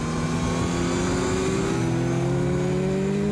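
A motorbike engine climbs steadily in pitch as the throttle is squeezed open on a track, loud and close with constant wind rush and no pauses.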